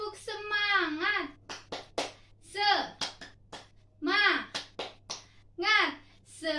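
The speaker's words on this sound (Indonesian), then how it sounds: "Kita tepuk semangat dulu yuk. 1, 2, 3. Tepuk semangat." Children in a classroom chant together while clapping in rhythm, sharp hand claps punctuating their sung syllables in short, repeated bursts, close and clear.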